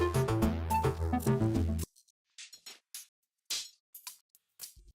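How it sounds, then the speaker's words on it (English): A burst of tonal music cuts off, followed by sparse, clicky percussive hits in an irregular pattern with silent gaps between them. "So it is this percussion loop,"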